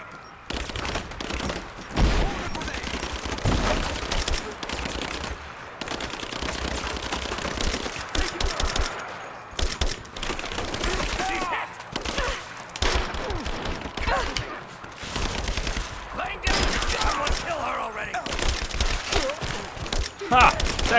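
Gunfire in the video game Rise of the Tomb Raider, rapid bursts of shots and fusillades crackling almost continuously, with a voice talking over the action.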